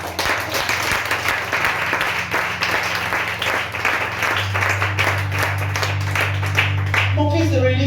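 A church congregation at a Sunday service claps steadily and loudly throughout, with voices and shouts of praise mixed in and a low musical drone underneath.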